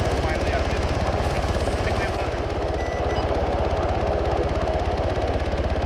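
A military helicopter in Arma 3 thrums with a loud, steady rotor chop close by, its pulsing beat continuous throughout while voices talk underneath.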